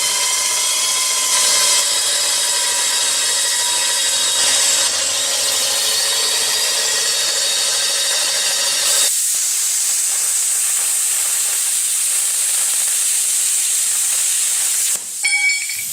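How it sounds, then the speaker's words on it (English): Metal welding coupons and backing strips are cut with a power tool, a loud continuous high-pitched grinding hiss that shifts in tone partway through and runs steadily before stopping briefly near the end. "we're just going to cut out a couple of these coupons here and some backing strips"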